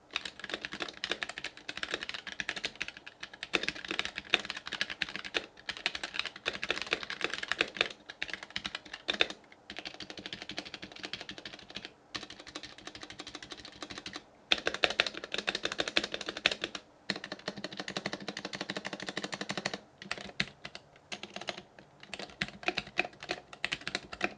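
Someone types on a Womier K66 mechanical keyboard fitted with white Glorious keycaps and O-rings, giving a close, continuous clatter of keystrokes with a few short pauses and no talking.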